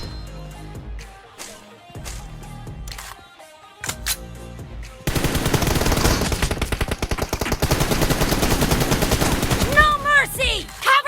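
Gunfire in a team shooter video game: a few sparse shots early on, then dense rapid automatic fire from the middle onward, loud and close, ending in a rising electronic warble.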